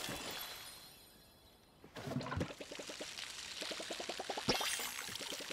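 Watering crops in the video game Palia: soft liquid pouring and trickling sounds, a short splash burst followed by repeated rhythmic watery ticks, moderately quiet against faint game ambience.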